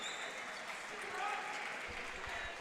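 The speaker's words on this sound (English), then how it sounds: "Referee's getting a nice round of applause in the corner there from the Kings student body" A round of applause for the referee from the Kings student body, heard at a girls basketball game, Cashmere at Kings. The clapping comes as a steady crowd wash from a far corner of the gym.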